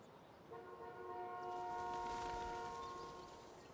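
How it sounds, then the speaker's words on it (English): A car horn sounds in the video game Life is Strange: Before the Storm, a single sustained, faint tonal honk lasting a few seconds with no voices over it. "We can honk the horn."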